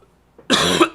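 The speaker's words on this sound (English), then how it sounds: "Excuse my coughing." A person coughs sharply twice, a loud, close harsh burst followed by a second short cough, after a brief throat sound.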